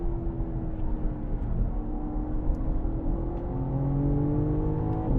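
A BMW M car on the Sonoma Raceway track, engine droning and climbing in pitch as it accelerates, loud and steady from inside the car with a rising, sustained roar.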